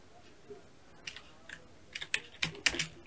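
Keystrokes on a computer keyboard while entering text for a YouTube intro, starting sparse and quickening into a close, crisp burst of clicks near the end.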